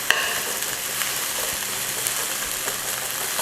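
Okra cooking uncovered in a pot gives a steady, moderately loud sizzle with light crackles and faint stirring scrapes throughout.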